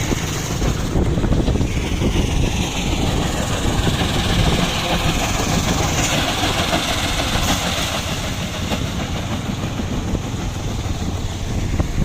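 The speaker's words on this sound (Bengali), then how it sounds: "এ পাথর ভাঙা হচ্ছে।" Heavy stone-breaking machinery works beside a river near Kalmakanda, producing a loud, unbroken mechanical drone and rumble that holds steady for the whole stretch.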